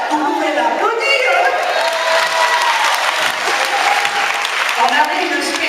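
Sustained applause from a crowd honouring a dance teacher at a dance event, dense and loud throughout, with a voice speaking over the clapping.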